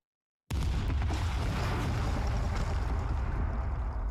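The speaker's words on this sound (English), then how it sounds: "The explosions rip through the hall with a force unlike anything I've ever felt before." After a moment of silence, a sudden heavy blast erupts into a sustained, roaring rumble that stays loud and dense with crackling bursts throughout.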